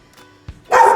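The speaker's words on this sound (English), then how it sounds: "What are you barking at?" A single sharp dog bark close by, preceded by a soft low thump.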